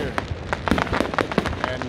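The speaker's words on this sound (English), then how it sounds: "So we have a fireworks tonight." A Saturday-night summer fireworks display at Niagara Falls on the US–Canada border, with a rapid crackling spatter of bursts, mid-distance and fairly loud, over a noisy outdoor background.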